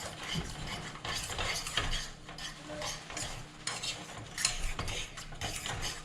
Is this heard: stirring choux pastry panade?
yes